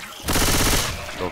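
A short, sharp burst of rapid gunfire in the video game Left 4 Dead 2, loud and close, cuts off after about half a second.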